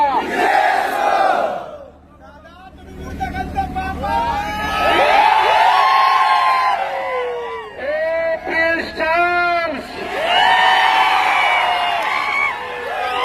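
A large crowd at a political rally in Pandharpur roars and chants slogans in unison, loud and close, in repeated rising waves of cheering.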